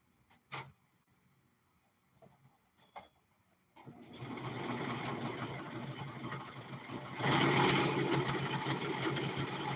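A sewing machine starts after a few scattered clicks and knocks, then runs steadily with a fast mechanical whir that grows louder toward the end, heard up close without talk.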